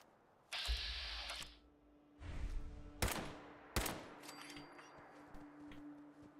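Gunfire from a weapon in the video game Fallout 4: a sustained automatic burst, then another burst and two sharp single shots, loud and close with no talking.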